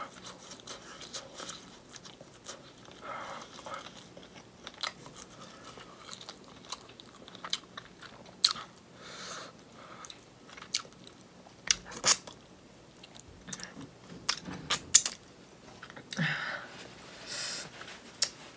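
Mukbang eating of Jamaican oxtails and shrimp, with close, intermittent biting, chewing and crunchy, wet mouth sounds scattered through a quiet background and no talking.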